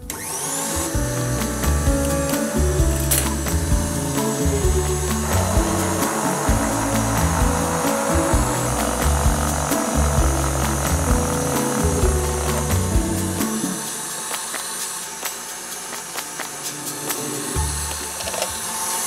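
An electric mixer beats egg yolks for a key lime pie, a loud continuous motor whine with rhythmic pulsing as the beaters work the bowl, easing slightly in pitch near the end.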